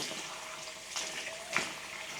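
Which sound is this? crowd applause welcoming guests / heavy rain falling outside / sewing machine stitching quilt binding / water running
water running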